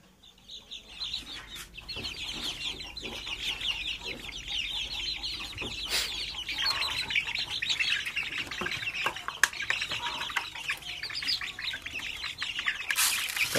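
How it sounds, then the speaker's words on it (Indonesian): A group of young Bangkok chicken chicks peep and chirp continuously at close range, a dense high twittering with scattered soft clucks and no talking. "anakan ayam bangkok."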